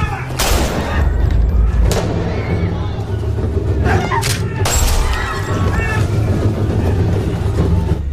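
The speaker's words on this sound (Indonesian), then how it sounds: "Suara tembakan mulai terdengar dan semua orang menjadi panik" Gunfire bursts out during a yakuza clan's attack on a party, sharp cracks and loud booms popping over a dense, chaotic din of panicked crowd noise and shouting that fills the whole stretch.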